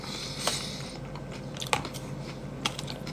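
Fresh vegetables such as cucumber and coriander crunch between the teeth in close-up chewing, with several crisp bites over a steady background and no talking.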